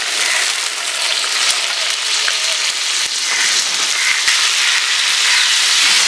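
Water lily stems go into simmering curry in a pan, giving a loud, steady sizzling hiss with occasional small crackles throughout.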